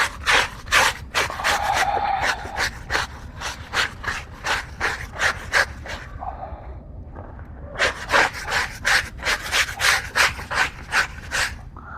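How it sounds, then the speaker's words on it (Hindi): A stiff brush scrubs a soaped, wetted cloth during washing: quick, rhythmic rasping strokes up close, a short pause near the middle, then a second run of vigorous scrubbing, with no talking. "अब हमने इसके ऊपर ब्रश भी मार दिया अच्छी तरीके से।"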